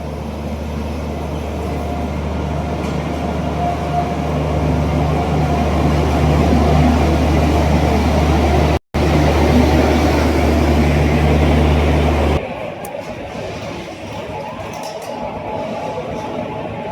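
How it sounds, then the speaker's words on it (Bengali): A train rumbles loudly and steadily into a station before dawn, a heavy low drone with a brief cutout midway, then the noise drops to a quieter hum near the end. "একটা ট্রেন ঢুকছে"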